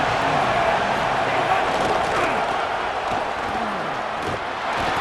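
A stadium crowd at an American football game roars in a steady, loud wash of noise that fills the whole clip, with scattered shouts within it.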